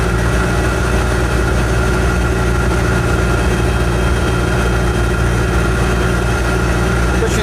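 A Citroen 2CV engine drives along at a steady pace, a constant loud buzzing drone with road and wind roar, unbroken for the whole stretch, with no talk over it.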